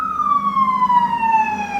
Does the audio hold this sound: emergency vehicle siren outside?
yes